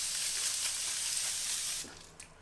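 Thermal spring water facial mist from a La Roche-Posay aerosol can, a steady close hiss lasting about two seconds before it cuts off.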